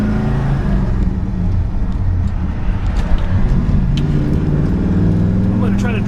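A 1964 Ford Galaxie 500 with a 427 engine and 4-speed runs with a deep, steady rumble that carries throughout at close range, and a voice talks over it.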